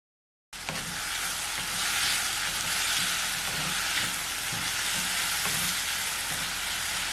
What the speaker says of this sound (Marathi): आणि आता शेवई बरोबर या सगळ्या भाज्या ज्या आहेत, गाजर वगैरे आपण जे काय केलं ते सगळं एकत्र भाजून घ्यायचं.